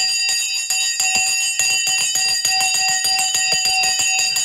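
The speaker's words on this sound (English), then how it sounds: "the bell has now gone" A stock market closing bell rings in rapid, repeated metallic strikes, a loud continuous clanging trill with no voices over it.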